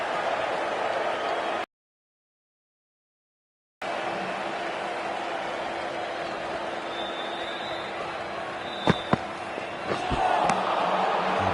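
Stadium crowd at an IPL cricket match in a video game, a steady broad roar of spectators filling the clip, broken by a short silent gap, with a few sharp knocks and a swell of cheering near the end.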